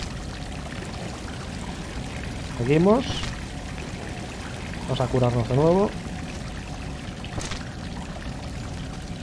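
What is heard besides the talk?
flowing water in the video game Salt & Sanctuary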